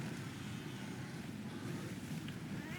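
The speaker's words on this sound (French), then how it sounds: "c'est la rivière. On est juste à côté d'une cascade." Rushing river and waterfall in the jungle area of the video game Monster Hunter Freedom Unite: a steady, dense roar of falling water that holds a constant level without breaks, with no voices over it.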